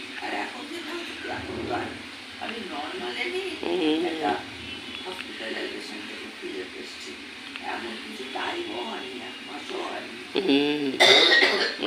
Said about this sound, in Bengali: আর এই একটা অদ্ভুত কাশি হচ্ছে